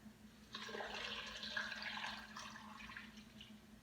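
Just under four cups of water poured at home into a pitcher for citrus mint water, a steady splashing stream running for about three and a half seconds at moderate level over a faint low hum.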